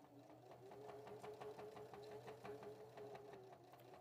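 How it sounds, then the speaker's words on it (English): A sewing machine runs steadily, its rapid needle stitching a fast even rhythm over a motor hum as it sews along a fabric edge for a kids' slumber sack, quiet and close with no talk. "bring our presser foot down, take a couple stitches, do a back stitch, and slowly"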